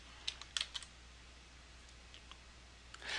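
Faint, sparse computer keyboard clicks from someone using cost-estimating software: a short cluster of light taps early on, then a few scattered keystrokes near the end, with no talking.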